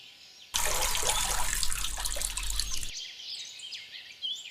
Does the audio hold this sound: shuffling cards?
no